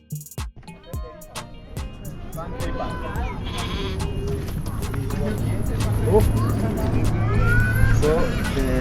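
Goats and sheep bleating in a Masai village, several calls rising over a steady background with people talking and some hoof-like clatter.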